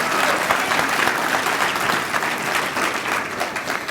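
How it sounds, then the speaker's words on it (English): A crowd applauds scholarship recipients and their escorts at a community service event, a loud, dense burst of clapping that stays strong for several seconds, then eases slightly, with no speech over it. "Let's give all of our recipients and their escorts a round of applause."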